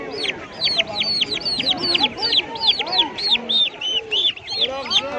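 A crowd of young turkeys at a bird market peep constantly in rapid, high, overlapping calls, with other fowl nearby and faint market chatter underneath.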